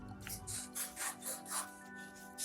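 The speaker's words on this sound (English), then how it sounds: "I then sanded it smooth and carved away chunks from it until it fit snugly into the side of the building." A block of XPS foam shaped into a miniature stone chimney is sanded by hand, with rhythmic rasping strokes, about six close passes in a steady back-and-forth pattern.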